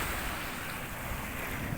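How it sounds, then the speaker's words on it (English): A sailboat at sea, with a continuous rush of waves washing against the hull mixed with wind buffeting. The sound is steady and fairly loud, with no voices. "we get one of those big old unfriendly waves, slaps the side of Sunshine,"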